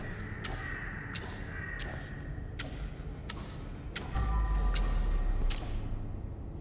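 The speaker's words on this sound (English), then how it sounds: "because of all the bird noises in the background" Background crows in the video game Crime Scene Cleaner, a series of short, scratchy caws at irregular intervals over a constant ambient hum, moderately loud, with no speech.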